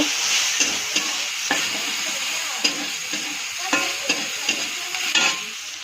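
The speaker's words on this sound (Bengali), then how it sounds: "সয়াবিনটা সুন্দর করে ভেজে নেব।" Soybean chunks frying in oil in a pan, a steady loud sizzle broken by repeated rhythmic scrapes and clacks of a spatula stirring.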